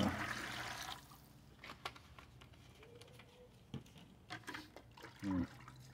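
Liquid bleach poured onto vegetable oil, a splashy, trickling pour fairly loud at the start, then fading into faint intermittent drips and small clinks, with a brief louder slosh near the end.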